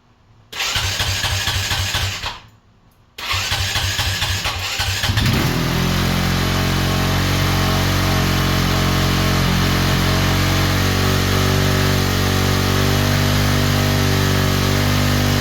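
A Honda CRF250X dirt bike engine cranks and catches briefly, cuts out, then starts again and settles into a loud, steady, fast idle with the choke on.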